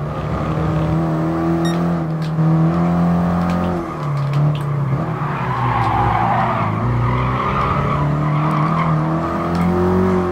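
French race cars from Citroën and Peugeot compete in a France event in Gran Turismo Sport on PS4 Pro, with loud engines droning and tyres squealing in long skids throughout and no talk.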